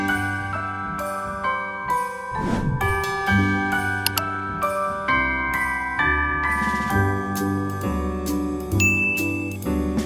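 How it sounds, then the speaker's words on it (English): A set of decorative holiday bells jingles and tinkles repeatedly as they are handled and set in place, bright ringing tones overlapping and lingering, with no talking. "I'm also going to add a set of bells I found at TJ Maxx"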